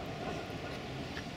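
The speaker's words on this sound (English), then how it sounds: "Oh, here comes two trams." Two trams pass through a busy Basel street, a continuous dense rolling rumble of wheels on rail, fairly close and steady, with no voices.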